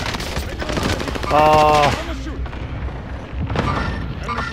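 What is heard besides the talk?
cluster strike explosions in Call of Duty: Modern Warfare, a video game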